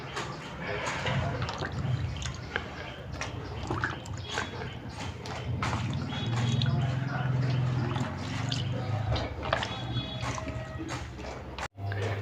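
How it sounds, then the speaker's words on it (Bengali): Young jackfruit pieces dropped into a pot of hot water, giving sloshing, dripping and splashing watery sounds with a low rumbling bubble, close and moderately loud, ending with a sudden brief cutoff. "জলটা গরম হয়ে গেছে, আমি এঁচোড়গুলো দিয়ে দিচ্ছি।"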